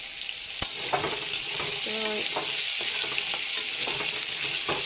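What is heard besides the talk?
potatoes frying in a pan for aloo dum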